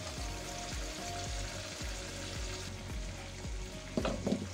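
Rabbit pieces fry in a pan for a Canarian salmorejo cooked aboard a boat, giving a dense, steady sizzle with crackling pops and a few brief clatters near the end, with no voices.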